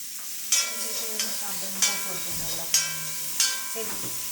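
Green chilies hit hot coconut oil in a pan, giving a few separate close bursts of sizzle that flare and fade at irregular intervals, with stirring between them and no voices.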